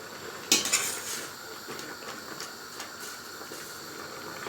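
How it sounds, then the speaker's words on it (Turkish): A metal skimmer clatters sharply against a pan as fried green beans are lifted onto a tray, followed by softer scraping and clinks over a faint oil sizzle. "Şimdi onu kevgürle alıp şöyle tepsiye koyacağım."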